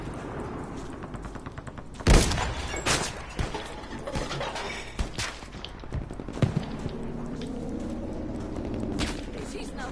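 Battlefield V conquest gameplay with gunfire and explosions: a loud blast, then scattered shots and mechanical clatter over a steady battle rumble, while players talk over it.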